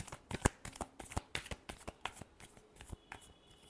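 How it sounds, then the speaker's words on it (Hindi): A deck of tarot cards shuffled by hand, close and crisp, with a quick run of riffling flicks and slaps in an uneven rhythm. "Last shuffle."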